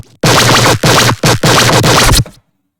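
A gritty synth bass for an electronic drop, run through a radiator saturation plugin, blares in four loud distorted bursts separated by brief gaps before cutting to silence.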